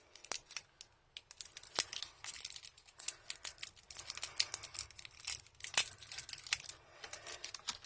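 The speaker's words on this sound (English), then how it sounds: "I'm going to just unwrap them all first." Winsor & Newton paint tubes being unwrapped from their packaging, with a close, quiet run of crinkling, tearing and rustling in irregular bursts and no talking.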